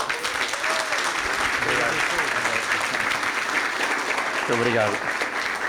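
Audience applauding to welcome a speaker onto the stage at an evening testimony event, steady clapping throughout with a voice briefly thanking them near the end.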